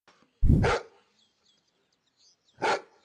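A farm dog on an Amish farm barks twice, a loud close bark followed after a pause by a second shorter one, with a quiet background between.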